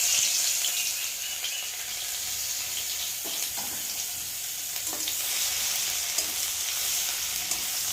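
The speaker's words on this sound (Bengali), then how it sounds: "রসুনটা একটু ভালো করে লাল করে ভেজে নিই" Garlic frying in hot oil with dried red chilli for a jute leaf curry, a steady, dense sizzle lasting the whole stretch with a few faint stirring scrapes, no talking.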